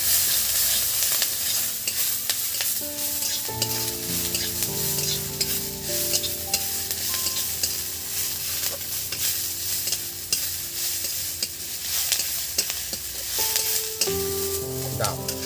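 Curry leaves frying in hot oil for an upma made with semolina, with a continuous close sizzle, crackling pops and the scrape of a spoon stirring through the pan.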